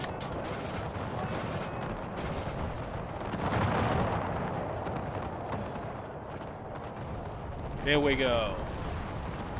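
Artillery in the video game Empire 2 fires in a dull, rumbling barrage of distant booms, moderately loud and spread across the scene, with someone talking over it.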